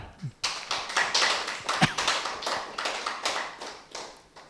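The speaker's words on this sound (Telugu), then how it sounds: "మనందరి క్లాప్స్ కొట్టుకోవాలని వద్దా?" An audience claps together at a meditation talk, a brief scattered burst that builds into steady, dense applause filling the room for several seconds.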